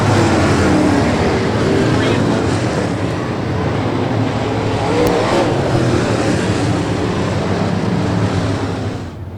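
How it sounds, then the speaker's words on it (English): American Modified Series race cars roar around Brownstown Speedway in a dense, continuous engine drone that swells and fades as the pack passes, loud and sustained, with track announcing over it. "Brock Burton's 2-star car goes up into the infield. He'll drive back out and continue on, though."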